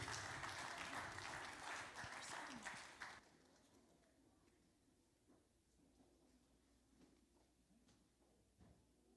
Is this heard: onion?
no